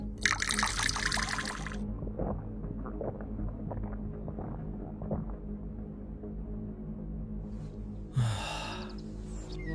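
Water is poured into a kamandal, a traditional drinking vessel, for drinking: short, splashy trickles at the start and again near the end, with a low, quiet background hum between them.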